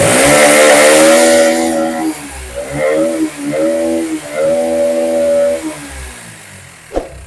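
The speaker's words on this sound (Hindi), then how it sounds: "इंजन का साउंड इतना बेकार है कि क्या ही बताए" A Bajaj Pulsar NS 125 motorcycle engine with an abnormal sound runs close by, starting loud and rough, then settling into uneven, pulsing revs that rise and fall before a sharp knock near the end.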